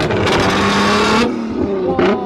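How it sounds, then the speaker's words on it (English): An exotic sports car engine revs hard in a parking lot full of supercars, a loud sustained roar with rising harmonics that drops off and then picks up in a short second burst. "There's cars over there getting revved"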